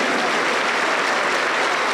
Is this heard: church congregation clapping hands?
yes